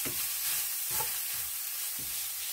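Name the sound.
sage sausage frying in a pan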